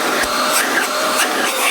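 A Black+Decker VH802 800-watt bagless vacuum cleaner runs steadily at close range, giving a continuous broadband whoosh of suction with no pauses.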